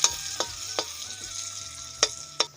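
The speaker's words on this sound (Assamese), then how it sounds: "ইফালে অলপমান লৰাই আছে" Chowmein stirred in a pan with turmeric and salt, giving a soft continuous sizzle broken by five sharp scrapes and clinks of the spatula against the metal, close and clear with no voices.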